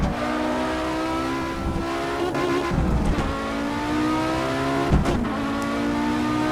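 An Audi Sport Quattro in Assetto Corsa, the engine revving hard and steadily through gear changes, with brief dips between shifts and a raspy, continuous drone close up.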